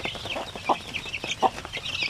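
Young Zamboanga and Basilan native chicken chicks, about three weeks old, peeping and clucking softly in a quick, high twittering stream, with a couple of louder chirps standing out.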